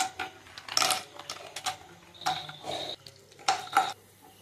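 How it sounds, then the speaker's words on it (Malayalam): Cashew nuts tumble into hot ghee in a pan, giving a run of close, uneven clinks and scrapes of metal against the pan with a light sizzle beneath. "പിന്നെ അണ്ടിപ്പരിപ്പ് ഇട്ട് കൊടുക്കാം."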